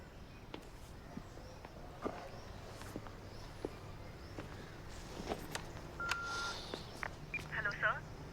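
Short telephone dialing tones sound faintly as a call is placed in an indoor scene, a few brief beeps amid quiet rustles and footsteps.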